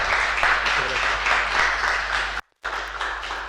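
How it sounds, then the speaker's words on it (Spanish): Audience applause after a talk at a Chilean education debate on a new constitution. The clapping is dense and steady, with a brief drop to silence near the end before it resumes. "y sigue con un aplauso"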